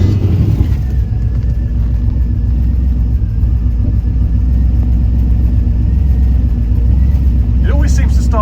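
A second-generation Pontiac Firebird with an LS engine swap and a carburetor idles with a loud, steady low rumble while the idle mixture is being adjusted, continuous and close throughout, with brief higher noise near the end.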